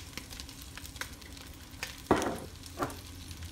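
Potatoes frying in a pan for shepherd's pie, with a soft steady sizzle and several sharp pops and crackles bursting out close by.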